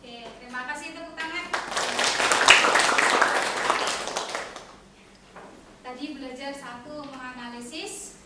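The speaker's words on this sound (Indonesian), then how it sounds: "terima kasih, tepuk tangan" Applause from an audience swells for a few seconds, with voices before and after it.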